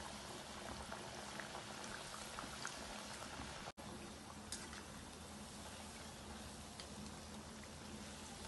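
Bottle gourd garelu fry in hot oil with a dense, even bubbling sizzle close by, broken by one brief dropout.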